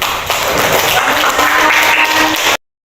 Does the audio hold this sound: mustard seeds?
no